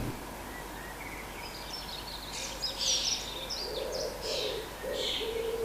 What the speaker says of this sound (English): There is this demonic sounding pigeon around here somewhere, and I think I can hear it in the background now.